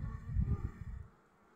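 Honeybees at a beehive give off a low, steady buzzing hum that swells briefly, then fades to a faint drone after about a second.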